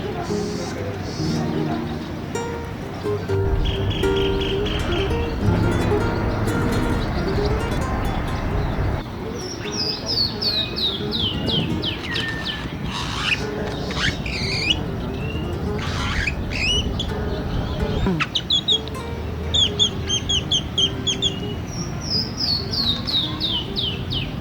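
Birds in Chapultepec Park, Mexico City, chirp and squawk in repeated high calls over a steady bed of park ambience and distant urban hum, with sharp clusters of calls standing out from the middle onward.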